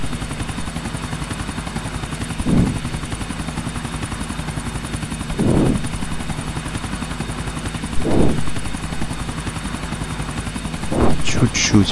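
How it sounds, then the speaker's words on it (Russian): Continuous helicopter rotor whir in Grand Theft Auto IV with rhythmic chopping, holding steady and rising in brief surges; short bursts of speech-like sound break through at moments. "Замедлим немного"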